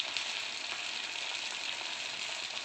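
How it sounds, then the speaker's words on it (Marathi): Sabudana vada frying in hot oil over low heat, a soft, steady sizzle with fine crackling, close by and unbroken. "बघा, खूप छान तळला जातोय वडा."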